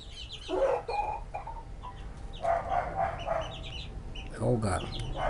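Japanese silkie chickens with five toes and a rooster cluck in short bursts at close range, with a few louder calls near the end over low background noise.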